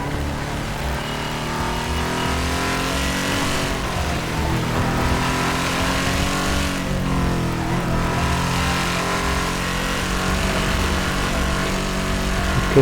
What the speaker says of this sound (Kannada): ಗಾಡಿ ಹಚ್ಚಾರ ನೋಡ್ರಿ ಯಾರ